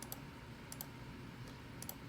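Calculator keys pressed in a short series of faint, crisp clicks, some coming in quick pairs, close by and alone.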